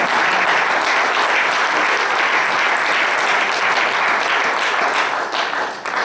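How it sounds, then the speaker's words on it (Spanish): Loud, dense applause from a church congregation, a continuous wash of many hands clapping for the Lord, steady and close throughout before easing slightly at the very end. "¿Por qué no le da un aplauso al Señor?"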